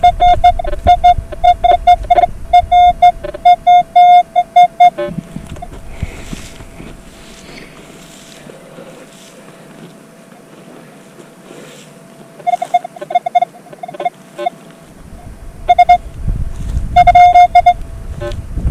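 Minelab Equinox 800 metal detector sweeping near iron in the field: rapid repeated electronic beeps in bursts, pausing through a quieter stretch mid-clip before the beeping resumes loudly, with wind rumble in the background.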